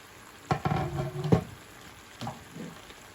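Vegetables with courgette, tomato and beans fry in a pan, giving short bursts of sizzling and stirring clatter, close and fairly quiet, with pauses between.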